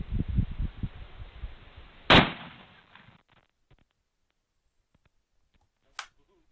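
A gunshot cracks out sharply once over wind-blown outdoor rumble, followed by quieter settling noise and a second, fainter sharp report a few seconds later.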